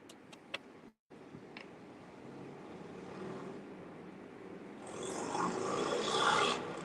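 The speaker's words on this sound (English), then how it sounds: "That was a motorcycle going down the road." A motor vehicle engine rises in the distance and swells louder toward the end, passing under a steady background rumble with a few ticking clicks.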